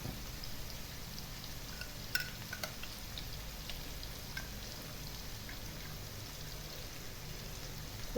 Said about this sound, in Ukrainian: І це все перемішуємо, нехай гарно просмажиться.